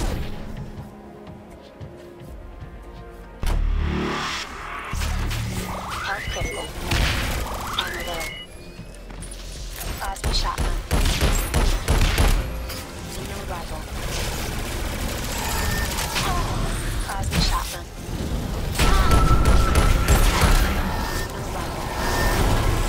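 Shotgun, xeno rifle and launcher fire in the PlayStation 4 game Alienation, with booming blasts, rapid bursts and crashing explosions layered over a dense battle din, loud and continuous.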